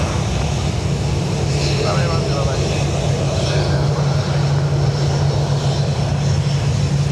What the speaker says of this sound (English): the one taking off here is going to Bratislava